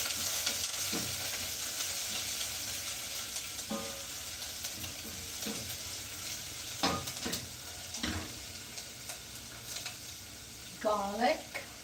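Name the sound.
onion sautéing with olive oil and garlic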